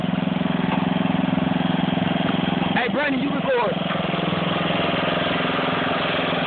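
A tractor engine idles steadily up close, a constant loud rumble that runs throughout while a voice speaks briefly midway.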